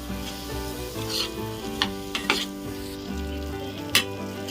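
Jaggery being stirred into hot oil in a pan for sukhdi, a steady sizzle with a few sharp scrapes and clinks of the spoon against the pan, close by, while a faint tonal hum runs underneath and no one speaks.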